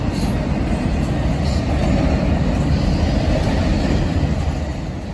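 A northbound CSX manifest freight train rolls past on the nearest track, a steady, loud, continuous low rumble with faint high squeal lines above, close by and with no talking.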